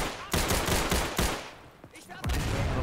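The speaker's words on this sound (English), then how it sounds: "this is a machine gun" Machine gun fire in Day of Infamy comes as several loud, close bursts separated by short gaps, with another burst resuming at the end.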